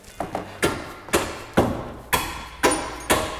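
Sharp hammer blows strike in a steady rhythm, about seven hits with a few lighter taps between them, close and ringing.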